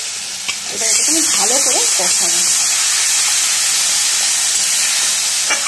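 Spices frying in oil in a pan, a steady bright sizzle that swells up after a quiet start and holds loud to the end, with someone speaking briefly over the early part.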